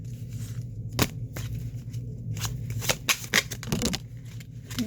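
Tarot cards being shuffled, with a few quick riffling bursts and soft flicks close by over a quiet room background.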